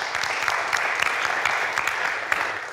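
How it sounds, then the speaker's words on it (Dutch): A studio audience claps steadily for a guest on a Dutch-language talk show, a dense, even burst of applause with no voices over it. "Graag een applaus"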